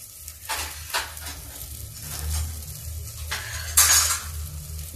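Onion frying in a kadai as a low sizzle under repeated spatula scrapes and metal clinks, with one brighter clang near the end.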